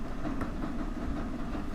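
Steam train running in the Train Sim World 6 game on a British railway, a steady, moderately loud rumble with faint rhythmic rail clatter, heard from inside the carriage with no talk.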